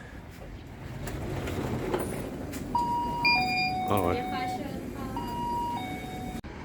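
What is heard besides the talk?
7-Eleven shop door chime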